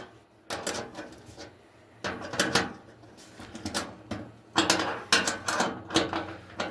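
Metal clunks and ratcheting clicks come in close bursts as a 6mm bolt is tightened on a car wing during a restoration, with short pauses between the clusters and no speech.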